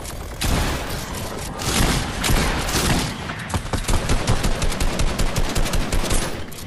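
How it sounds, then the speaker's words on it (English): A minigun fires nonstop in an online battle royale game, a loud, rapid rattling stream of shots that grows more distinctly pulsed toward the end, with explosions mixed in and no speech. "Don't worry, I got him with my minigun."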